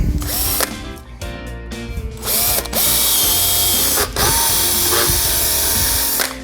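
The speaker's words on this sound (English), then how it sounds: "Grab our drill, do the same thing." A power drill bores holes into an ice skate heel for a Marsblade conversion, whirring loudly in several bursts, spinning up and winding down between short pauses, with clicks and mechanical rattling close by.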